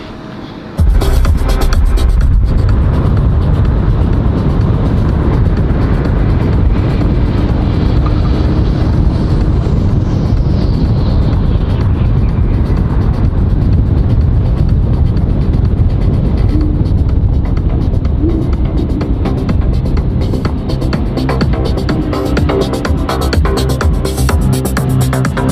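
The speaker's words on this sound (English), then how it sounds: "let's go for a drive" Sustained loud rumble and road roar of a car being driven, steady throughout with heavy wind buffeting and no voices.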